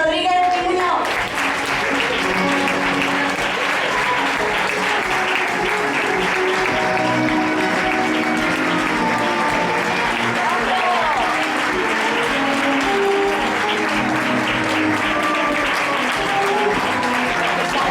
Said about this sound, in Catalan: Un fort aplaudiment per al xiquet Marc Rodríguez i Muñoz.